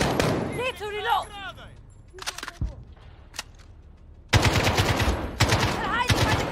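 Gunfire rings out in the video game Call of Duty: Modern Warfare 2, with scattered single shots at first and then a loud, sustained burst of rapid automatic fire. A voice talks over the opening moments.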